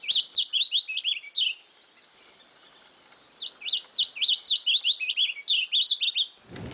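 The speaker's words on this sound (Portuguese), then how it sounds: "um pia-cobra, que é um passarinho comum em todo o Brasil e que tem um canto assim" Bright, rapid song of a pia-cobra in two bursts of quick chirping phrases, clear and fairly close, separated by a quiet pause, no voices.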